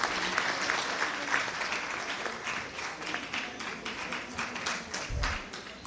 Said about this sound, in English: Another round of applause for Kwale County